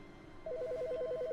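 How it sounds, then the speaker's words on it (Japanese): A telephone in The Stanley Parable: Ultra Deluxe video game starts ringing with a rapid warbling electronic trill of two alternating tones, close and steady after a brief quiet lead-in, with no speech over it. "電話。"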